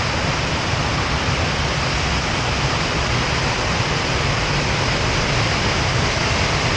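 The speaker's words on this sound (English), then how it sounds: "the advantage of the rain is that the waterfall becomes much more aggressive, much more vicious" Glencar Waterfall swollen by rain, a loud, dense and unbroken rush of falling water close by, with no voices.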